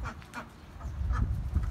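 Welsh Harlequin ducks, a heritage dual-purpose breed, calling on a farm: several short honking quacks in an uneven series at moderate distance, fairly faint, with no talk over them.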